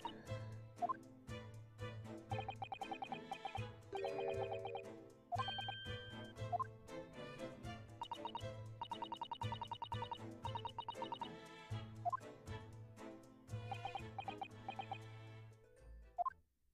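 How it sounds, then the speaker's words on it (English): A hen clucking in the Great Ace Attorney Chronicles video game, rhythmic clucks repeated in bursts over a looping game music track with plinking notes, no talk. "Calls his hen."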